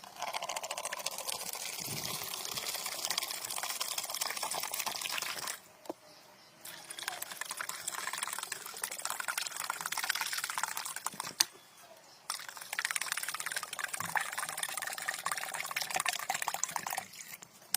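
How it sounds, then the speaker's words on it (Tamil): Three litres of river water pour into a plastic bucket with a continuous splashing rush, broken by a couple of short pauses between pours, close and alone. "இப்ப இந்த மூணு லிட்டர் ஆத்து தண்ணியையும் இந்த பிளாஸ்டிக் வாளியில ஊத்திடலாம்"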